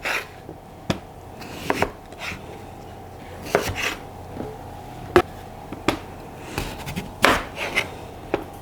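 Sweet potatoes being cut into wedges with a knife on a board, giving sharp, irregular chopping thuds spaced through the clip over a quiet kitchen background with no talking.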